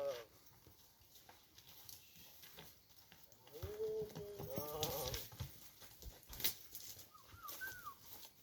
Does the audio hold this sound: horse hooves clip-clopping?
yes